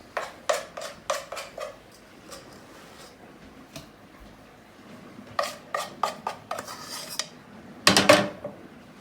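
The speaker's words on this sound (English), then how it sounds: "we're gonna turn off the heat and we're gonna transfer this into our bowl" Hot, thick air-dry clay dough is scraped from a pot into a bowl with a spoon, giving clusters of sharp metallic clinks and scrapes, a quieter pause in the middle, then a loud scraping burst near the end.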